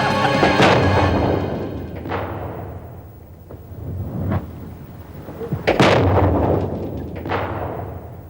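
Heavy, booming bomb blasts roll out as a horror-show sound effect: several deep explosions, a couple of sharp thunderous hits followed by long rumbling decays, loud and close with no talk.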